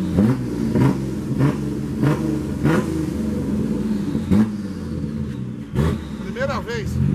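A Nissan 350Z engine revs repeatedly in sharp, loud blips that rise and fall over a rumbling idle, heard close by, with people talking over it.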